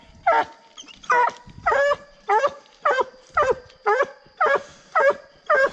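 A female coon hunting dog barks in a steady series of about eight loud, close yelps roughly every half second, with whining whimpers between them, during a night coon hunt.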